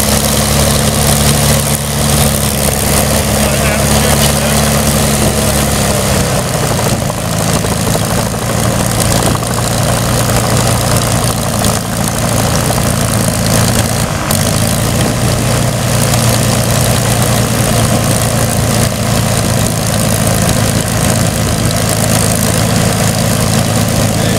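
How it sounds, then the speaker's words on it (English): A Spitfire's piston aero engine idles loud and steady at close range, a deep rumbling drone that drops slightly in pitch after about six seconds and then runs on evenly with no talk. "you don't want to leave this engine on too long in idle because they do tend to overheat"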